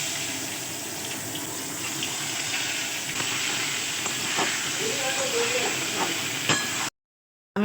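Potato pieces with salt and turmeric sizzle steadily in hot oil in a kadai, a constant close frying hiss with small crackles and occasional stirring clinks, cutting off abruptly near the end.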